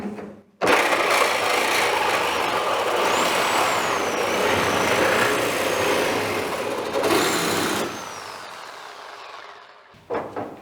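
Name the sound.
reciprocating saw cutting truck roof metal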